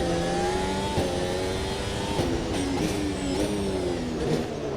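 Max's 2023 Formula 1 car in a racing video game screams close and loud, its engine rising in pitch through the gears with sharp drops at each shift, continuous and with no talk over it.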